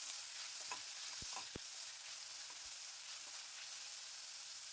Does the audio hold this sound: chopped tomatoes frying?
yes